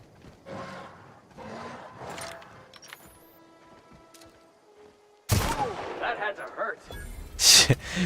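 In The Outer Worlds: Spacer's Choice Edition, loud bursts of gunfire and explosive cracks erupt in the second half after quieter stretches, with a voice speaking earlier in the clip.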